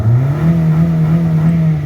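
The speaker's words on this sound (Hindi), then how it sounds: "अब गाड़ी करते हैं हम स्टार्ट" A Honda City car with a misfire and a low throttle sensor voltage fault runs at a steady idle just after starting, a loud, close, even engine drone with a slight rise at the start.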